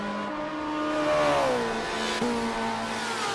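A racing car in Forza 7 at the Hockenheimring drives hard through the corners, its engine a steady, high revving whine whose pitch dips and climbs between shifts, close and continuous.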